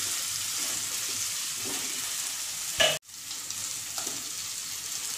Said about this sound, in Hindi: अदरक लहसुन का पेस्ट यहाँ पर मैंने हल्के से सौटे किया है।